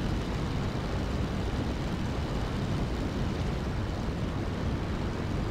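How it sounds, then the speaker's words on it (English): World War I aircraft engines in the flight game Rise of Flight, a loud, steady, unbroken drone that holds the same level throughout, with no voices over it. "Okay, so these planes are extremely loud."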